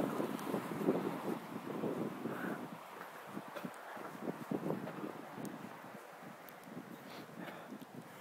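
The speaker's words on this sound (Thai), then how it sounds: "ลมรื่นมาก" Wind gusting against a microphone while a runner moves outdoors among trees, a rough low rumble that swells and fades irregularly, fairly faint, with no talking.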